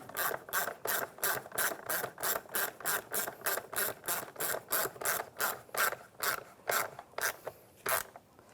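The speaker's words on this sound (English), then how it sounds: "And tighten down the worm clamp." A worm-drive hose clamp on the intake of a 2004-2010 BMW X3 is tightened with a ratcheting tool, giving a steady run of about two dozen close, evenly spaced ratchet clicks that slow slightly near the end.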